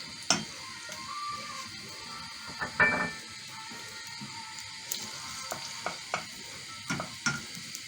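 Garlic frying in hot ghee and oil gives a soft steady sizzle with a few sharp clinks and stirring scrapes of a spoon against the pan, close and alone without talk.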